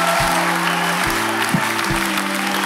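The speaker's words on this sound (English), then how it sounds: "Give the Lord a clap and a shout." Church congregation clapping during a revival service, a loud continuous wash of applause with a sustained organ or keyboard chord droning underneath throughout.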